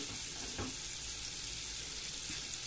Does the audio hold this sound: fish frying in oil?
yes